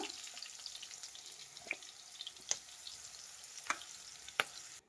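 Capsicum and chicken frying in a pan on high flame, a steady bright sizzle with occasional sharp crackles and spatters, close and alone without talk.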